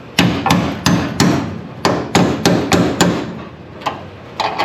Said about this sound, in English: I'll go grab a cold chisel, smack on those, and I'll show you how they pop loose